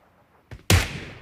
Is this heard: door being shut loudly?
no